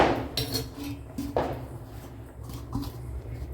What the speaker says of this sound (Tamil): இப்போ மூடி வச்சிட்றேன்.